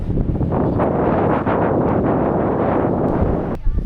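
Strong wind at a beach in Batangas, Philippines, roars and buffets the microphone continuously, a loud, dense rush with gusting surges and no clear voices.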